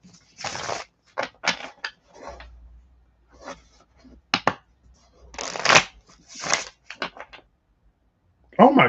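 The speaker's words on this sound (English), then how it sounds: "And we're shuffling this right back together." A deck of playing cards is shuffled in repeated bursts of crisp riffling and bridging, with short pauses between passes, heard close up.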